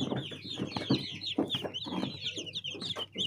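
Newly hatched chicken chicks on day 21 of incubation in a plastic incubator, cheeping in a rapid, continuous chorus of high peeps, close and moderately loud, with no talking.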